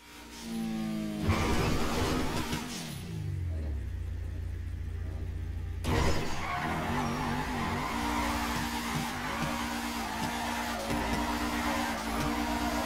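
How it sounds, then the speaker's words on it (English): A car jump drift in the video game GTA 5: a loud engine roar with a long tire squeal and skidding, a sudden cut-off at the jump, then renewed revving and squealing tires as the drift is held. "soon enough you'll probably be able to hold a crazy enough jump drift like this one."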